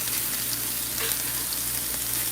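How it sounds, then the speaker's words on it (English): Plant-based cheesesteak meat and peppers and onions saute in a pan with a steady close sizzle and a faint low hum beneath, plus an occasional light stir; nobody speaks. "the meat is sauteing really well as well"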